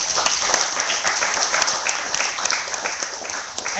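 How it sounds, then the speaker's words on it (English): A crowd at the Negawatt Revolution launch event gives dense, continuous applause, many hands clapping evenly throughout at a fairly loud level with no speech. "Adib and Joey, give them a big applause"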